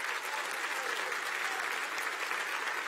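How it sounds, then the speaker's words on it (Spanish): A church congregation at a Sunday service applauds, a dense, steady wash of clapping from many hands filling the room at even loudness throughout. "denle un aplauso al rey."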